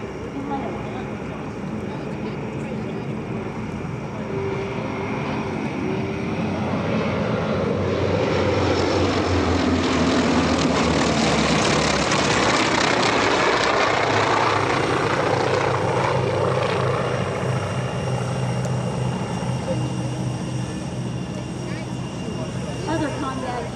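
North American T-28 Trojan radial-engine propeller trainer flying past at an airshow, a loud continuous engine drone that swells to a peak mid-pass and then fades slightly as it moves away.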